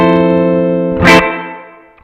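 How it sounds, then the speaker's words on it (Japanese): Electric guitar played through a Strymon BlueSky reverb pedal: a sustained, ringing chord with a brief noisy strike in the middle, then a smooth reverb tail that fades away gradually. "さっと消えていく感じですね。残響が綺麗に残るんですが"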